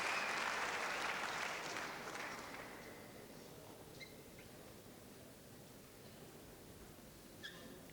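A crowd applauds at a Euro-Asian table tennis quarterfinal, loud and sustained at first, then thinning over the next few seconds into a lower murmur with scattered claps.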